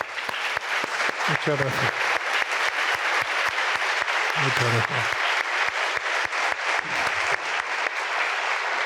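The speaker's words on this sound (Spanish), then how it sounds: "Un aplauso muy fuerte" Audience applause after a book-night talk on Roman history, a sustained dense clapping from a crowd that continues evenly, while someone briefly speaks over it twice.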